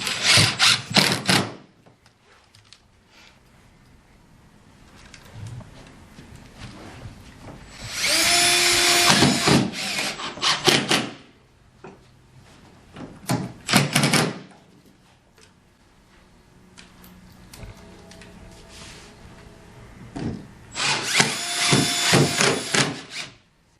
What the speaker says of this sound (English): all you're going to do is just fill every hole with a screw on the decking.